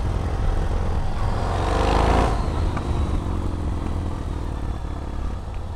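Yamaha MT-01 2005 motorcycle being ridden, a steady close engine drone with wind rush that swells briefly around two seconds then holds even, with no talk.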